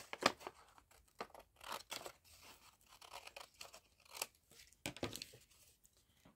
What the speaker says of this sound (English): So what I might do is trim off where it was folded here.